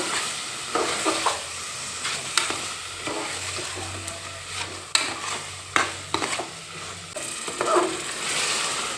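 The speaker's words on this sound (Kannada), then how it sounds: "ಈಗ ಅದಕ್ಕೊಂದು ಒಳ್ಳೆ ಮಿಕ್ಸ್ ಕೊಟ್ಕೋಬೇಕು" Chicken masala gravy frying and sizzling in a pan while a spoon stirs and scrapes through it, with irregular clanks against the metal and a steady hiss underneath, close and fairly loud with no voices.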